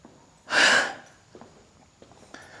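A single loud, breathy exhale bursts out close to the microphone, like a winded gasp after a climb near a hilltop view, then fades into quiet, faint background noise.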